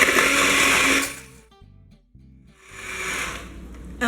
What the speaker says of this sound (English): Next, we're going to beat the butter and the sugar and everything else that's in here until it's nice and